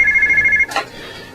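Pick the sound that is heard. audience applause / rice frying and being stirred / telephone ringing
telephone ringing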